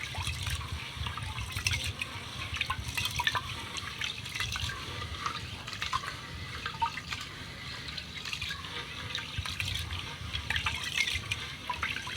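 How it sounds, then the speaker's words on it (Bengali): Rice and lentils are rinsed in water for a vegetable khichuri, giving a continuous close-up splashing and sloshing with small swishes and drips throughout, no talking. "আমি এখন ভালো করে চাল আর ডালটা ধুয়ে নেবো"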